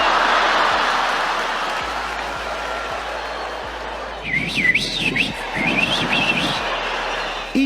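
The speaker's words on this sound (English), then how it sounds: "They start whistling." Audience members at a live stand-up comedy show whistle in varied, sliding melodic calls over crowd applause and murmur, growing busier in the latter half.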